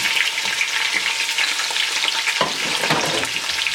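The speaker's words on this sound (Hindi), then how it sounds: "तो अदरक जाता है इसमें, बेल पेपर और प्याज," Ginger, bell pepper and onion fry over a high flame, a steady, close, loud sizzle with bursts of spatter and scraping stirs near the end, no voices.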